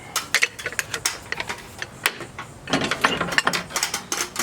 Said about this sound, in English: then you just turn it counterclockwise and the fan comes out